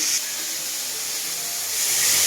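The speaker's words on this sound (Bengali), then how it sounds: "ভাপিয়ে রাখা ফুলকপিগুলোও ছেড়ে দিলাম হালকা সাঁতলে নেব" A steady, bright hiss of steamed cauliflower sautéing in hot oil, constant and close, swelling slightly toward the end.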